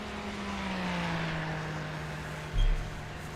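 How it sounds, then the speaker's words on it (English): A race car engine at the 24 Hours of Daytona endurance race running steadily at a low, rumbling drone, with a brief louder thump near the end. "I still hear the car running."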